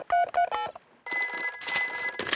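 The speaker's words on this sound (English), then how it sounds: "I'll phone Grandpa Pig." A cartoon pig dials a telephone in Peppa Pig, a quick run of bright keypad beeps, then a brief pause before a steady buzzing ring tone sounds.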